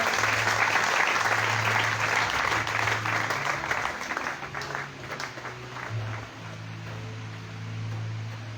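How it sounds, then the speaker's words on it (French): A church congregation applauds for the Lord in sustained, dense clapping that fills the room and slowly thins, over a low steady hum. "Can you applaud for the Lord?"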